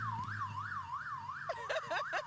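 A wailing police car siren at a parade in Penticton rises and falls steadily in a regular yelp pattern, with chirpy voices and whoops breaking in near the end.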